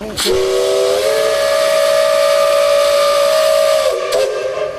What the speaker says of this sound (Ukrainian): 8 вересня рівно о 10 годині ранку на залізничному вокзалі Івано-Франківська пролунав гудок ретропотяга